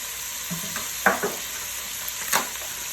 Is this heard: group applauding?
no